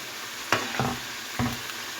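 Potato fries fry in hot oil in a kadhai with a steady bright sizzle, punctuated by three distinct stirring scrapes spaced a fraction of a second apart.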